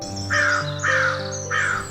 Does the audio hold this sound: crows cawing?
yes